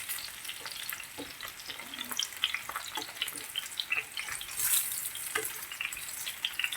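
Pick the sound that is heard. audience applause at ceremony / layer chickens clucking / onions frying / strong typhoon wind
onions frying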